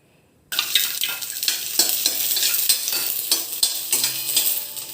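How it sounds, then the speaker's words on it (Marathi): Chopped onion sautés in a little oil in a pan, a bright continuous sizzle that starts abruptly after a short silence, with repeated stirring scrapes and spatula strokes pulsing on top. "सुरुवातीला आपण थोडंसं तेल टाकून कांदा ट्रान्सपरंट होईपर्यंत परतून घेऊ।"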